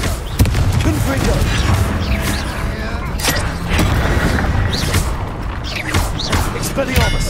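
Confringo blasting spell cast in the Hogwarts Legacy video game, heard as repeated loud bursts and booms amid dense battle noise, with a voice calling out over the action.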